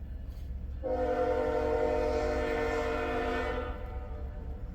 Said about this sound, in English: I hear a train horn, but it ain't him.